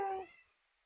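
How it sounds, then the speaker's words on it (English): A pet cat gives a single short meow, faint and close by in a quiet room, fading quickly into silence. "I mean, she's meowing."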